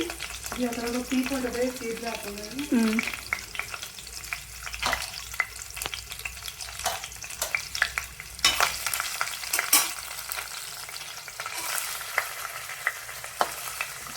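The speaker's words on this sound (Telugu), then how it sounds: "ఆయిల్లో కొద్దిగా తెల్లగడ్డ ఎండుమిర్చి వేశారు" Garlic, dried red chillies and a clove sizzle and fry in hot oil, with a steady crackle and repeated clinks of a stirring spoon against the pan, close up and loud throughout.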